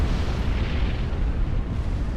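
A sustained, dense rumbling explosion in the strategy game Supreme Commander: Forged Alliance, loud and continuous with no voices over it.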